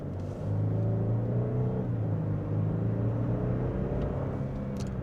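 A Lexus LX 700h hybrid SUV with a torquey motor accelerating, heard as a low, steady engine rumble with a rising tone, smooth and even throughout with no talking.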